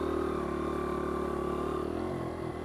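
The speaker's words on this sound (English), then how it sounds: "While keeping the bike running." A Honda XR100 dirt bike engine idles steadily on a woodland trail, a loud, even drone held close throughout with a slight dip near the end as the idle wavers.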